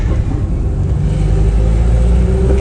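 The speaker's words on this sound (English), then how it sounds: "look at the acceleration of this car." 1960 Warszawa M20 pickup driving along a road with speed bumps, a close, loud, low engine rumble that builds steadily under acceleration across the whole short stretch, with no talking.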